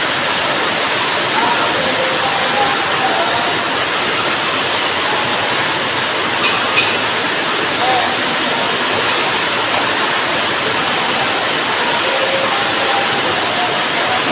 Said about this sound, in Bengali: দেখি কতটুকু ধরতে পারি বৃষ্টির পানি।